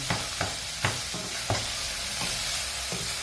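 Wild mushroom adobo being reheated in a pan: a steady sizzle runs throughout, broken by about six sharp clinks of a utensil stirring against the pan at uneven intervals, close and clear with no talk.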